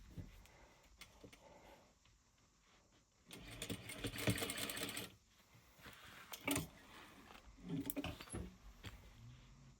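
A sewing machine stitching a fabric wallet, with quiet stretches of whirring and short louder bursts of rapid stitching, close up and with no talk.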